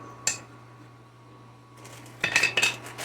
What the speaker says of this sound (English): I need to get this rice stuff mixture stirred up